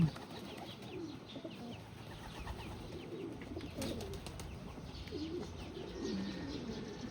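Soft, low cooing of pigeons repeats a few times at a moderate distance over a steady outdoor background hum.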